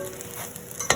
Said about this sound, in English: So we're gonna fry this until it is well done.